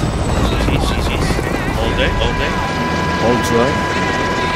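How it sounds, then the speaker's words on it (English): Helicopter rotor drone in a video game, loud and steady throughout, with overlapping gameplay effects and occasional chirps, under excited player voices. "This chopper is smelling kind of bad."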